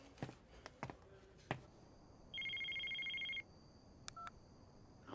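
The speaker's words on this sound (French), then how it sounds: "Mika, ça t'ennuie si je passe un petit coup de fil?" A telephone is dialed to place a call: a few taps and button presses, then a steady electronic tone lasting about a second, followed by more brief beeps, in a quiet room.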